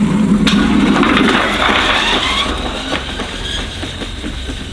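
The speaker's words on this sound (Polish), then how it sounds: "teraz już puszczę tą kolejkę, no i po prostu zobaczcie, jak to zasuwa. Sam dźwięk tego robi wrażenie." Homemade roller coaster car rolling fast along its track in a forest, a loud continuous rumbling clatter with rattling wheel noise that builds and then holds steady as it runs past.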